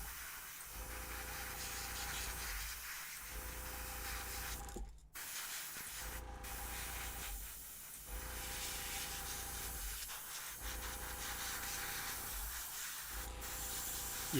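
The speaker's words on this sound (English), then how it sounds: "the key to speed painting something, a bunch of these things, is to have something like an airbrush" An airbrush sprays paint in repeated short bursts, a close hissing rush that starts and stops every couple of seconds while Halloween pieces are speed painted.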